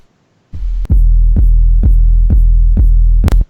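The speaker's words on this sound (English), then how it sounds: "The kick is actually a attack and almost a sub, like a sine wave." A punchy kick drum with a sharp click attack and a deep, almost sine-wave sub tail hits about six times in a steady rhythm after a brief low drone, loud and alone in a studio mix.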